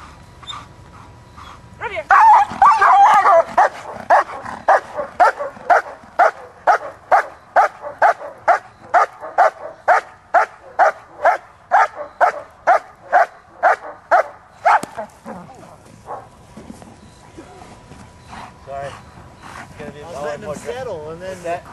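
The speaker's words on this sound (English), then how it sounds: "He was settling, barking for you." A dog in Schutzhund training barks in a fast, steady series of around thirty close, loud barks, then stops as quieter sounds and a voice follow.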